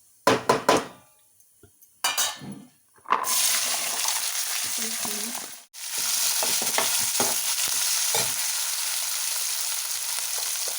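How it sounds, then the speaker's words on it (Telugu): Ivy gourd pieces tumble into a hot pan with ground ginger, green chilies and coriander powder, then sizzle loudly and steadily while being stirred, with a few clinks of utensil against pan early on. "ఇందులోకి ఇప్పుడు కూర ముక్కలు వేసేద్దాం"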